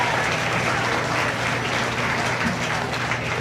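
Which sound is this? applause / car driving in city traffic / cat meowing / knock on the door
applause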